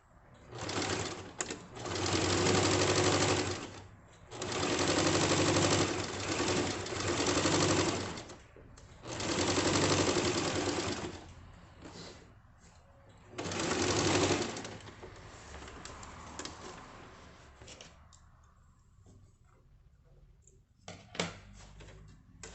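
A sewing machine runs a straight seam on a fabric bottle bag with a divider, whirring steadily in several long bursts with short pauses between them, close and clear, ending in softer stops and starts.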